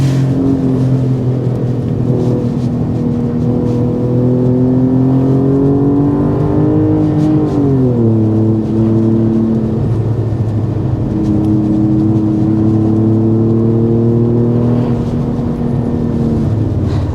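A 2024 Alfa Romeo Stelvio Quadrifoglio engine pulls hard and loud through the gears, with steady rising drones, a brief dip at a shift, then climbing again with no talk.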